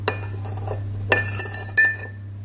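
A metal spoon clinks and taps against a glass of salty water while stirring, a few bright, close chimes over a low steady hum.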